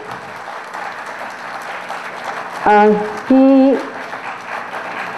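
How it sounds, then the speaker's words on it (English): Applause from the crowd at an annual award meet gives a steady, moderate wash of clapping, broken around the middle by a voice speaking briefly over it. "We want a big clap for him."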